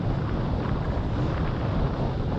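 Steady wind rushing past the microphone while windfoiling during a marathon race in Singapore, a constant broadband roar with low buffeting that holds at the same strength throughout and has no voices.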